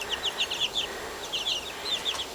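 Chickens and roosters kept in a backyard coop give short, high clucks and calls in scattered bursts, moderately close, with no talk.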